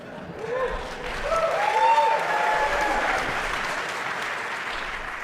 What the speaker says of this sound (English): And they're cheering it on.